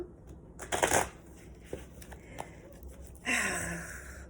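A deck of cards is shuffled close by: a riffle burst, scattered soft taps and handling clicks, then a second riffle toward the end.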